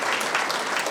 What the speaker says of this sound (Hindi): एक बार जोरदार तालियां बनाकर हम उनका स्वागत करें